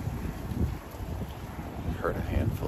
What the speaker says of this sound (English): But it's really windy and really cold.